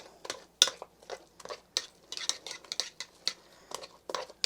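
Gold potatoes mashed by hand in a pot for cheesy mashed potatoes: irregular soft thuds and squelchy scrapes of a masher against the pan, close and fairly quiet, with no talking.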